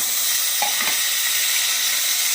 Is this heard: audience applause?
no